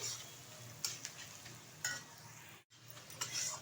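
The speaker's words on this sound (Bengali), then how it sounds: "ভালোভাবে পেঁয়াজটা ভেজে নিয়েছি।" Onions fry in a pan with a constant soft sizzle, broken by several sharp spatula scrapes and stirs and one brief near-silent gap.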